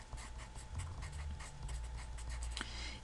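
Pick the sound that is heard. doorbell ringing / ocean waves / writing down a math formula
writing down a math formula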